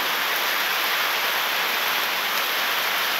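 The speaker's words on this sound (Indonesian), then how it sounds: "hujan deras telah turun" Heavy rain pours steadily in a dense, broadband hiss, loud and unbroken throughout, close by with no other distinct sounds over it.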